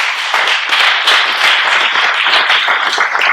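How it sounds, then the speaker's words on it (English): Audience applause for a university student board at an autonomous-vehicles talk, a dense, steady patter of many hands clapping close by and filling the whole moment without pause or voices. "let's give them a round of applause"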